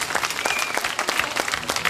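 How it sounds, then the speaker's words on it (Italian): A crowd at an amateur Corrida talent show in Ruvo di Puglia applauds the third-place contestant, with dense, sustained clapping from many hands throughout and no speech over it. "Al terzo posto si fa avanti per ricevere l'applauso del pubblico di Ruvo di Puglia, Fracchiolla Pino."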